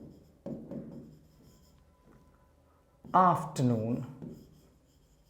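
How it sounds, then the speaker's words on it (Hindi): Writing on a board during an English lecture, a faint scratchy stroking heard under a teacher's speech, which dominates the sound. "नेक्स्ट रूल के लिए पहले मैं यहां पर लिखता हूं"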